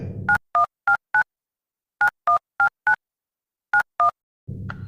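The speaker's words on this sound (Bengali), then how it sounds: "পাশে রাখা ল্যান্ডলাইন ফোনটা টেনে নিয়ে ধীরে ধীরে নম্বর ডায়াল করেন" Ten beeping keypad tones sound as a number is dialed on a landline telephone, in clusters of four, four and two, with a low hum at the start and end.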